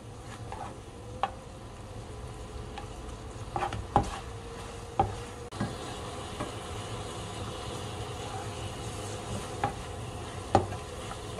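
A spatula scrapes and clacks in a pan while braised abalone and sweet potato are stir-fried in seasoning. Occasional sharp knocks sound over a steady low sizzle and hum, close and fairly quiet, with no speech.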